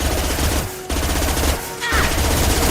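Sustained gunfire in the sci-fi shooter Mass Effect 2 Legendary Edition, a dense, loud stream of rapid shots broken by two brief pauses.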